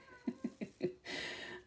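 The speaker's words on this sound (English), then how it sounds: "Sorry if you can hear the cat in the background." A cat in the background gives a few short soft mews in quick succession followed by a longer drawn-out meow, faint and somewhat distant.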